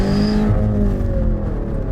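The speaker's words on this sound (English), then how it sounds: "It's got a lot more induction noise than I'd expect from a BMW." A BMW M5 CS sedan engine revving hard, a loud, close, steady droning roar with strong induction and turbo whine layered over it, holding for about two seconds without any talk.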